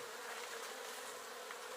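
A dense, steady swarm of bees drones without pause around an opened beehive on a bee farm during spring work, close and even.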